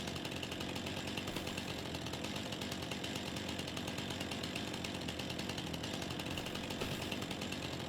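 Chainsaw trimming trees in the video game Farming Simulator 25, Green Valley expansion: a steady, continuous buzzing saw drone runs throughout at even loudness, with no talk.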